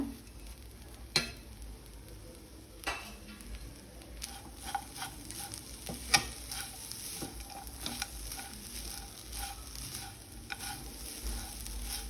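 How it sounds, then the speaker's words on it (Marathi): Jaggery being stirred in a pan with toasted coconut as it melts for a traditional sweet, giving soft scraping strokes with scattered clinks over a faint sizzle, close and fairly quiet. "आता पुन्हा हे मध्ये मध्ये असं हलवत राहायचं आहे गूळ मेल्ट होईपर्यंत आपल्याला हे छान असं परतवत राहायचं आहे"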